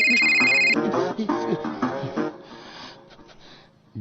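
Phone ringback tone after dialing a call on a mobile, heard in a short burst at the start alongside someone talking, then fading into quieter speech and breathing.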